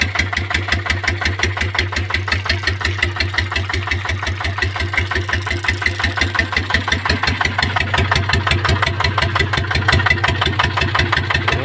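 A Kubota RT110 single-cylinder walking tractor engine thumps steadily and loudly while plowing a field to prepare soil for planting chili. The rapid, even pulses continue throughout.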